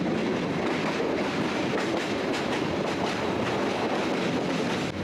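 A train runs along the narrow Dhaka–Sylhet railway through dense jungle, with a continuous loud rumble and rhythmic clickety-clack of wheels on the track heard from on board, steady throughout.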